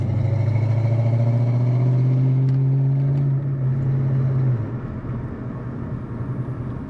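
A 1993 Ford Mustang LX coupe with a 5.0 V8 and automatic transmission drones loudly from inside the cabin, engine note climbing steadily before easing off into a lower cruising rumble.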